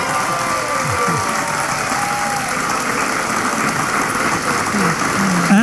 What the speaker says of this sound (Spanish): El aplauso bien grande